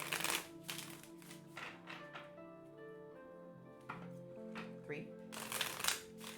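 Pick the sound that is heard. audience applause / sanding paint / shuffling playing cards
shuffling playing cards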